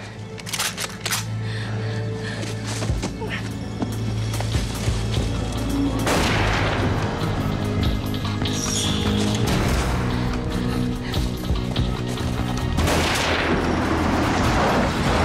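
Pistol gunshots in a German crime drama: several sharp cracks spread across a tense scene, with two especially loud blasts near the middle and end over a steady musical hum and background noise.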